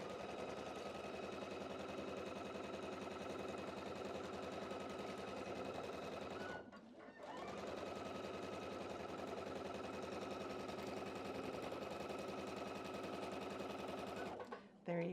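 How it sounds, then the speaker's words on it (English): A sewing machine stitches a row of a quilt with sashing and borders, a loud steady rapid mechanical whir that runs continuously, stops briefly once midway, then resumes and ends with a short pause. "And let's sew this next row."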